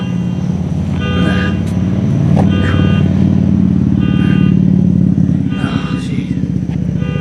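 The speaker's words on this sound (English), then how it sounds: "Shut up, car." A car passes close by on the street beside a sidewalk where concrete slabs are being removed, its engine droning loudly throughout with a brief horn-like toot, while a person speaks over it.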